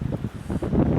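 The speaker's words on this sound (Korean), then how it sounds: "바람이 엄청 많이 불고" Strong wind at a creekside wild campsite buffets the microphone in low, rumbling gusts that rise and fall, with no talk.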